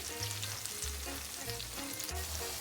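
Potato latkes frying in hot oil in a pan, a steady soft sizzle and crackle with a few low hums underneath, close and quiet with no talking.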